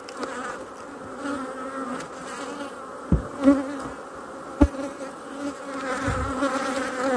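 Honey bees buzz around an open hive colony during an inspection, a dense, close droning hum that swells and fades, with a few sharp knocks and clicks of frames being handled and no talk.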